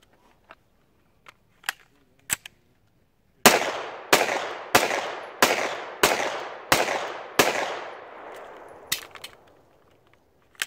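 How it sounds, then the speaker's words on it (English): CZ P-09 Tactical pistol fired outdoors: a few sharp pops at first, then a rapid string of about eight loud, evenly spaced shots, each ringing into a short echo before fading. "But meanwhile, we're out here doing some more shooting."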